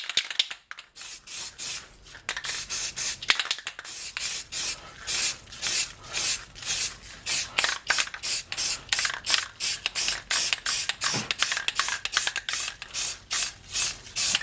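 A spray gun lays a second coat of paint on a Mazda RX3, giving rapid repeated hissing bursts in a steady rhythm, close and fairly loud, with no talking.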